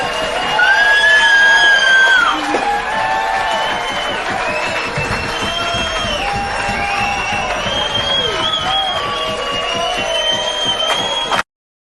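A film crowd scene: a dense murmur of many voices with scattered shouts and cheers, steady and loud throughout before cutting off abruptly at the end.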